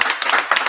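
Audience at a live event clapping together in dense, bright bursts that swell in two waves, close and fairly loud with no voices over it.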